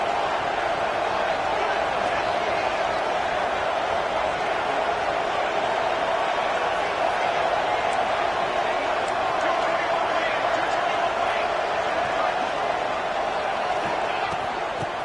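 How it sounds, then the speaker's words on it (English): A football stadium crowd roars in a dense, steady, loud wash of noise that never lets up, with a commentator talking over it. "listen to this crowd noise. This stadium is vibrating"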